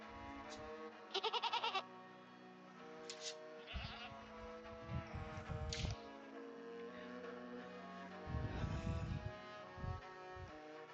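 Several bleating sheep call out in short bursts in a video game over a steady melodic background track, with a few sharp clicks.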